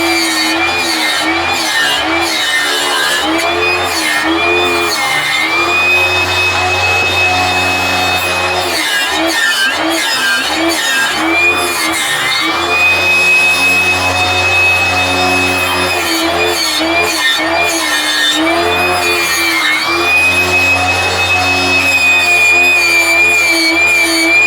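A saw rips lengthwise through a redwood 2x4, with a loud, close, whining blade that rises and falls in pitch as it bites into the wood, cut after cut, with brief pauses between passes.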